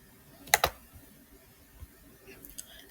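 A couple of sharp computer keyboard clicks close together near the start, then a few faint clicks later, during work in an Excel spreadsheet; no talking.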